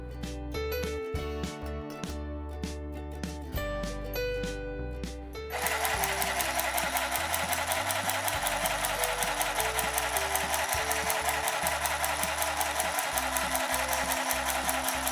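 Handheld mini electric cordless sewing machine stitching fabric, a loud rapid even mechanical chatter that starts abruptly after some brief clicking and handling noises and runs steadily to the end.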